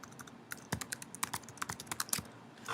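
Someone types on a computer keyboard, a close, steady run of quick key clicks.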